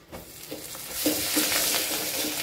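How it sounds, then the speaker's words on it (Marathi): Crushed peanuts tossed into hot oil with cumin for a potato curry, a soft hiss rising into steady sizzling with faint stirring scrapes, fairly quiet. "तर आता आपण हे शेंगदाण्याचं कूट याच्यात टाकून घ्यायचं आहे"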